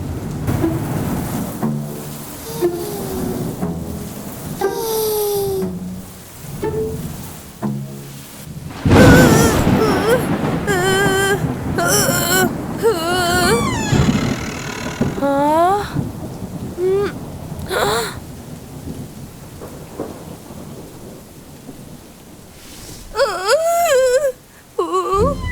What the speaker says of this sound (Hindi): उस रात शदीद बारिश और गरज चमक की आवाज की वजह से मुझे सोने में मुश्किल हो रही थी।